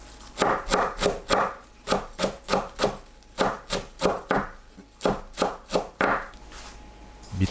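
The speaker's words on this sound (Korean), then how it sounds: "파 흰 부분을 작게 썰어줍니다. 깻잎은 채 썰어주세요." A knife chops green onion whites and shreds perilla leaves on a cutting board, a close series of crisp rhythmic taps in short bursts with brief pauses, nothing else heard.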